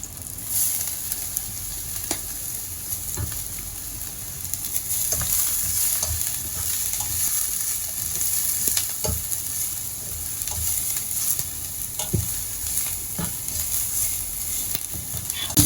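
Ginger frying in a pan for homemade sweet and sour fish, a continuous loud sizzle and crackle with occasional stirring scrapes and taps throughout.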